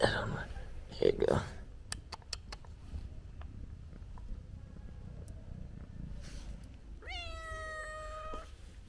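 A cat meows once near the end, a clear rising call lasting over a second, after a stretch of quiet room noise with a few brief clicks and a soft voice near the start.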